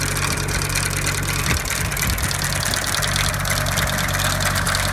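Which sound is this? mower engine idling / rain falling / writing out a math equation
mower engine idling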